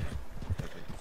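A Missouri Fox Trotter horse in the video game Red Dead Redemption 2 near Moonstone Pond, its hooves clip-clopping in a quick, fairly quiet rhythm of several close steps.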